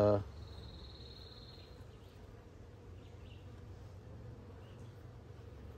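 A thriving honey bee colony in a new hive hums with a low, steady drone, faint and continuous after a brief sharp noise at the start.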